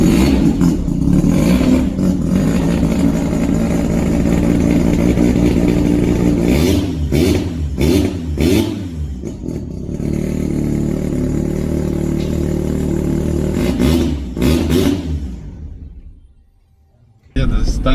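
Turbocharged three-rotor engine in a Mazda RX-7 FD, revving hard and loud up close in repeated sharp blips over a constant rumble, inside a busy indoor space, before dropping away near the end.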